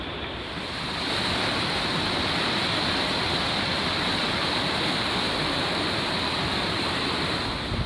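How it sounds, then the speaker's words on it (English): Takakkaw Falls, a 254-meter waterfall, roars as a dense, constant rush of falling water heard close up, swelling in after the first second and holding loud and steady, with wind buffeting the microphone. "I made it right up next to this waterfall."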